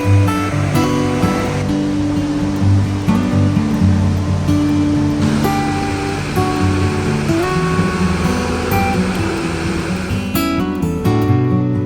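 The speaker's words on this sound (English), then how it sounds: "The mist, the waterfall, rain, everything is just adding up to that beauty." Waterfall at Catarata del Toro in Costa Rica, with mist and rain, roaring as a steady, loud wash of water throughout, with a music track audible over it.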